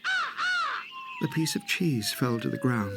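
Two harsh, drawn-out crow caws, voiced as an imitation in a telling of the fox and crow fable, loud and close, followed by a narrator speaking.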